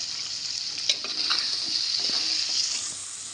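Spice powder being stirred into a pan of chicken curry, giving a steady, close, continuous sizzle and frying hiss with soft scraping stirs and no voices.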